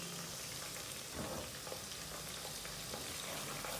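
Chicken masala with dried onion, green chilies and coriander frying lightly in a pan, a soft steady sizzle with faint stirring scrapes, fairly quiet and without speech.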